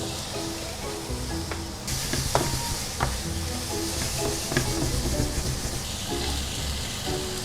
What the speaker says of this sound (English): Now it's time to throw in my sausage.